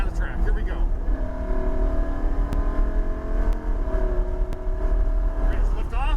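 A Lamborghini Huracan Evo accelerates hard on a race track, its engine note climbing loud and continuous inside the cabin, with a voice talking faintly underneath.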